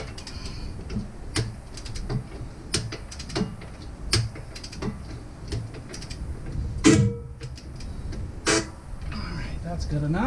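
Ratchet undoing the lower bolts on a Jeep TJ axle, a series of short clicking bursts at irregular intervals, with sharper metallic knocks among them, close by in a garage.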